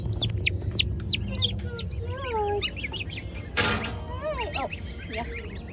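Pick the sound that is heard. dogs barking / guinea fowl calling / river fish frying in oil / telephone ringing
guinea fowl calling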